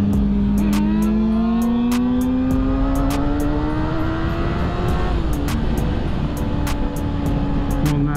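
Ford Mustang 5.0 V8 engine roaring hard during a wheelie launch, loud and close, pitch rising steadily as it accelerates through the gears with sharp shift breaks, then easing off near the end.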